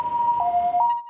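An ambulance siren wails close and loud in a short burst, stepping between two tones as it rushes children to another hospital. No voices are heard.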